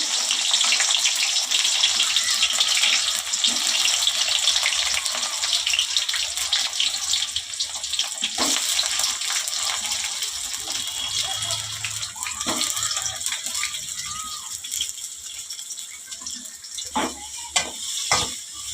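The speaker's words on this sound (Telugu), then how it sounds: "ఎర్రగడ్డ కొంచెం బ్రౌన్గా ఫ్రై చేసుకోవాలా" Onions frying in hot oil in a pan: a steady crackling sizzle, loud at first and gradually easing, with a few sharp clinks and stirring scrapes toward the end, no talk.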